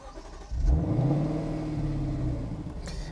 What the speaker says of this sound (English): Now I've got to switch the car on for that.